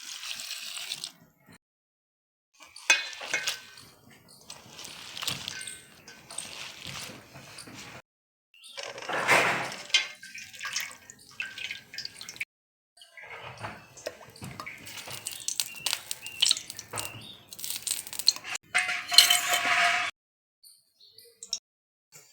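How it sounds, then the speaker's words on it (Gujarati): Water pouring and splashing in irregular bursts over leafy vasseti bhaji greens being washed for a Gujarati recipe, with gaps of silence between pours. "પહેલાં પાણી નાખી દેવું ધોઈ જ નાખશું"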